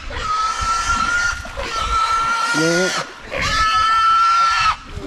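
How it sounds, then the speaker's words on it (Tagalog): Farm pigs oinking and squealing nearby, loud overlapping grunts and squeals in several bursts, with a person briefly speaking in a pause between them. "Yung mga baboy natin, oh, naligo na."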